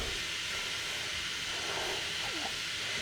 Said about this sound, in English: that's the noise my tap makes when it's running